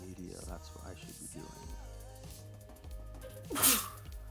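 A single sharp sneeze bursts out near the end, loud and close, following quieter background sounds and faint talk.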